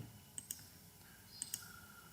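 A computer mouse clicks quietly in two quick double-clicks about a second apart, during work on timer settings in Schneider TM200 PLC programming software, with no talk.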